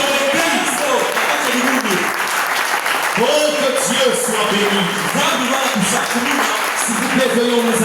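A church congregation claps and cheers together in dense, sustained applause. Excited voices shout and call out over the clapping from start to finish.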